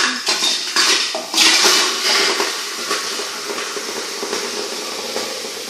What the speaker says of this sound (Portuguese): Aí vamos colocar aqui na nossa panela, que já está quente.